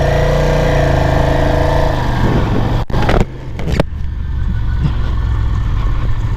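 A Ducati 620 Sport motorcycle engine drones loudly and steadily at close range for about two seconds. It then falls away into a rougher, lower rumble with brief sharp breaks, and a softer idle-like murmur follows.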